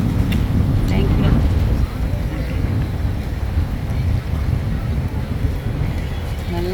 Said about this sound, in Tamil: சரியாக காற்றடிக்குது, நல்லா காற்றடிக்குது.